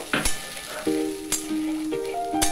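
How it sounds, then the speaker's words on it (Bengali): Hot water poured into a wok of fried spices and dal, hitting the hot pan with a sharp hiss and bubbling sizzle, close and fairly loud, with a few brief clinks from the pan. "কড়াইয়ে আমি এবার গরম জলটা ঢেলে দিচ্ছি"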